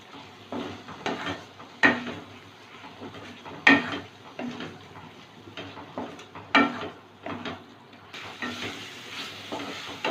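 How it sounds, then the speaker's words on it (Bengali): A spoon stirring ritha fish curry with sour yogurt, salt and a little sugar in a pan, giving soft scraping sweeps and gentle sizzling with several sharper clinks against the pan, close and steady without any voices. "একটু নেড়ে চেড়ে নিলাম"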